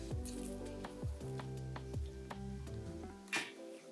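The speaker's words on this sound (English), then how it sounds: "And you're just gonna mix this till it's somewhat mixed together." Challah dough being stirred and mixed by hand in a bowl, close and quiet, with repeated wet squishing and clicking strokes in an uneven rhythm that stop near the end.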